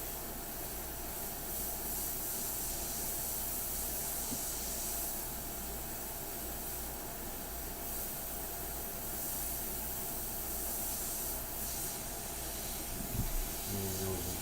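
An airbrush used for an India ink portrait sprays continuously, a faint, steady airy hiss that stays even throughout with a small knock near the end.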